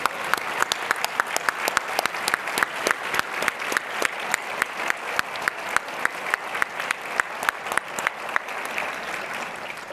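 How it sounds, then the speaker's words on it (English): A roomful of people gives a warm round of applause to airport staff who are standing up, with steady, sustained clapping throughout and some sharp individual claps standing out near the front. "give them a round of applause"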